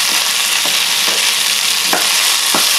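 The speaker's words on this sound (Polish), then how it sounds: "Razem wszystko na bardzo słabym, delikatnym ogniu podsmażamy." Cherry tomatoes and red onion fry gently over very low heat, a constant close sizzle punctuated by four brief scraping stirs in the pan.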